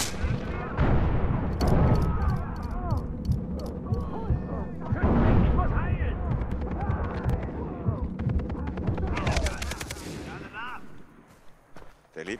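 In Far Cry 3 co-op play, a grenade blast lands among gunfire and bursts of automatic weapons, with loud explosive thumps and rumbling, while two players talk excitedly over the action.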